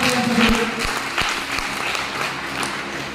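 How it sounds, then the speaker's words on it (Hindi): Audience at a meeting clapping in thanks, a steady roar of many hands with a few louder individual claps standing out, continuous and fairly loud throughout. "एक जोरदार ताली बजाओ का धन्यवाद"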